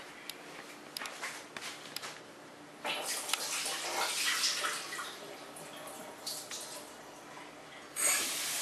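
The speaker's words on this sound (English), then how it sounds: "I'm going to go ahead and rinse this out one more time" Water splashes and sloshes as potatoes are rinsed in a pot, with scattered knocks early on, then swells of running water and a louder gush near the end.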